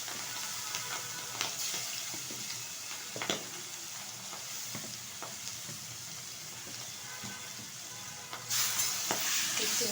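Fish oil and prawns fry in a wok, giving a steady close sizzle with scattered crackles and stirring scrapes, rising louder near the end as fresh frying kicks in; no talking.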